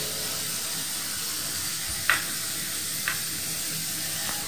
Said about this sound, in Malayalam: 2 ടേബിൾ സ്പൂൺ വെളിച്ചെണ്ണ ഒഴിച്ചു കൊടുക്കുക. ഇതിലേക്ക് നമുക്ക് 1 ടീസ്പൂൺ ഇഞ്ചി വെളുത്തുള്ളി പേസ്റ്റ് ഇട്ട് കൊടുക്കുക.